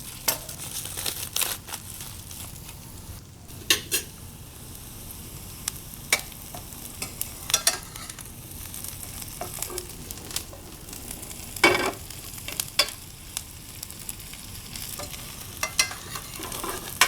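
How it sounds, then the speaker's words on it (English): Onions and garlic spread in a single layer sizzle steadily in a pan, with a soft continuous fry and scattered clicks and scrapes from stirring. "So single layer of the onions and garlic, so it caramelizes nicely."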